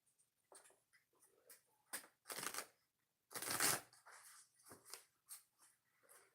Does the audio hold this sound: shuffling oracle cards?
yes